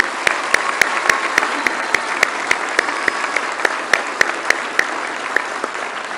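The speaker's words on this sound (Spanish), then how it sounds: "Un gran aplauso." An audience applauds steadily for about six seconds at a hospital inauguration, a dense wash of clapping with a few sharper, louder claps standing out, and no voices on top.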